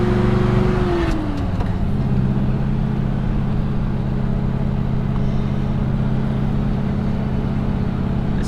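A 1967 Buick Special cruises along Route 66, its engine a loud, steady droning hum heard from inside the car, with a tonal whine dipping in pitch early on.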